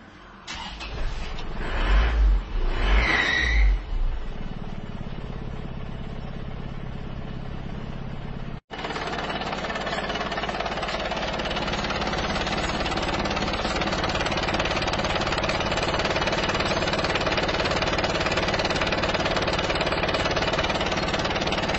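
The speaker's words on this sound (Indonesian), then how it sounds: "Sebelumnya kita tunjukkan dulu bagaimana ngobosnya mobil ini." Isuzu Panther diesel engine suffering heavy blow-by, cranking with a few rough knocks before catching, a brief click, then a loud steady clattering idle with a rattling, pulsing diesel chatter that continues for many seconds, no talking.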